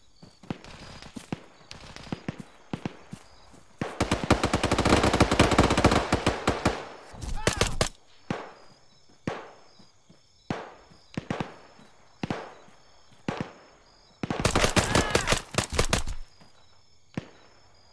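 In a first-person shooter mission, gunfire crackles in long automatic bursts and scattered single shots, loud and close, with short quiet gaps between the volleys.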